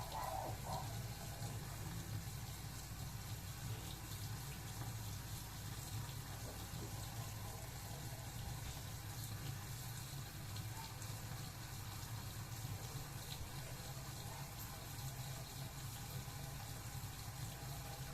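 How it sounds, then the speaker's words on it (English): Running tap water pours steadily into a sink during a surgical hand scrub with antiseptic soap, a continuous close gushing hiss with little change throughout and no voices. "Lather your hands with antiseptic soap. Clean under nails using a nail pick."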